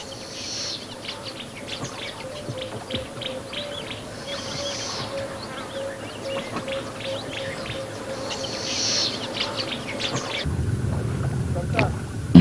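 Wild birds at a wetland, including migratory species such as black terns, chirping and calling repeatedly over a steady outdoor background, with a louder low rumble near the end.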